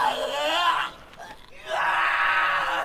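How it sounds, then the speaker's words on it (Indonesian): An anime character screams at full force in two long, loud, strained bursts separated by a short gasping pause, the cry rising and sustained. "Di luar ia berteriak sekencang-kencangnya."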